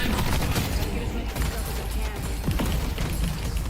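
Gunfire in a video game comes as a dense, continuous barrage of shots and impacts, loud and busy throughout, with talking layered over the action.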